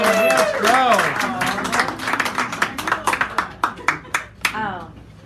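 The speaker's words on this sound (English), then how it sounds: "Give her a round of applause anyway." At a poetry hour in a San Francisco cafe, a small audience claps for a poet. After someone talks, sharp, separate handclaps build into a short burst of fairly close applause that tapers off.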